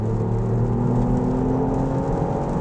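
A Ford Fiesta ST Performance Edition engine drones loudly with a steady revving hum and a low rumble, close and continuous, without voices.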